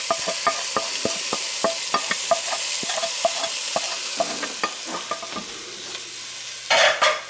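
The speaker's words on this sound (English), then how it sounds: "And now you want to stir this continuously for a couple of minutes till the onions get soft" Onions and seasonings frying in vegetable oil in a large saucepan, a loud continuous sizzle under rapid, rhythmic scraping stirs that slow toward the end before a brief louder clatter, close up, no voices.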